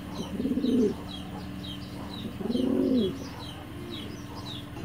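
Large Silver Afshan Bagha pigeons cooing nearby, two or three low rolling coos spaced a second or two apart over faint background chirps.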